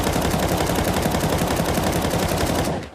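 Sustained automatic weapon fire in the video game Counter-Strike 2, a loud, rapid, unbroken stream of shots that cuts off just before the end.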